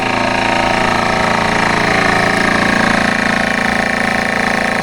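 A small boat motor drones steadily at sea off Cebu, Philippines, during a kayak and paddleboard fishing trip, loud and constant with a buzzy mid-range tone and no talking.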